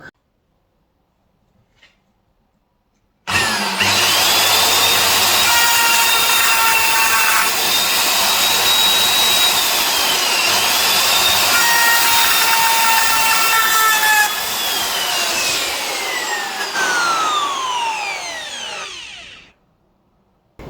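A wood router milling aluminium runs loud and close for about sixteen seconds, a harsh high-pitched screech with shifting whining tones as it cuts, then winds down to silence.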